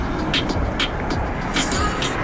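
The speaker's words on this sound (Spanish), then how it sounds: "Vaya saliendo el G3 Touring verde." A green Porsche 992 GT3 Touring drives out, a steady close engine and road rumble with some broadband whoosh, under a loud ambient outdoor scene.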